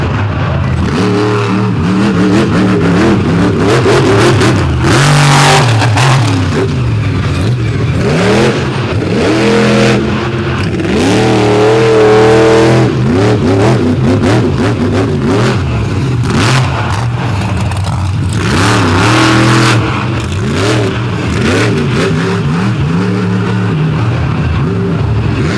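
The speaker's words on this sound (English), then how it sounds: "here comes the black and green destruction machine, the big Ford from Maryland, Toxic, and Preston Perez." Monster truck engines roar in an outlaw drag race at Canfield, Ohio in 2022, including a big black and green Ford from Maryland; loud, continuous revving with rising and falling pitch sweeps fills the whole stretch.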